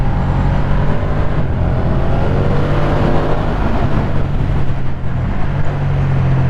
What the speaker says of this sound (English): Like, that's full throttle, 3rd gear roll on.